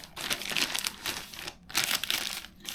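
A plastic garbage compactor bag, used as bike touring gear, is crinkled and handled up close in two bursts of rustling with a brief pause between them.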